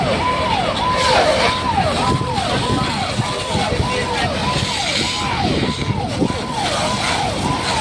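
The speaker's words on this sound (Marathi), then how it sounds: "केज नगरपंचायतच्या अग्निशमन दलाची गाडी या ठिकाणी पोहोचली आहे" A fire engine siren wails in a steady repeating rise-and-fall over loud engine rumble, with people talking in the background, at a roadside bus fire.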